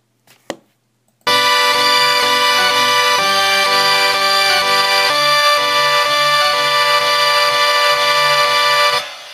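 An FL Studio 3X OSC synth layer built from two saw oscillators and one noise oscillator plays a loud, bright, buzzing lead line of stepped notes for several seconds, alone, after a brief click.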